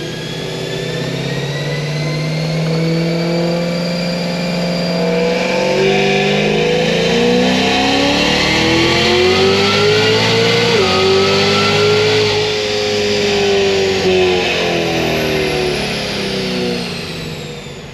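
A Cadillac CTS-V on stock tires pulls hard through a 4-5 gear shift, its engine climbing loud and steady in pitch, dipping briefly at the shift, then rising again before easing off.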